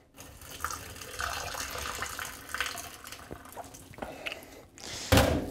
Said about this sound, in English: Now, you do want to drain this out,